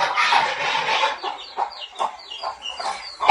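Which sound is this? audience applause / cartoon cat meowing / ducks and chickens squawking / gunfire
ducks and chickens squawking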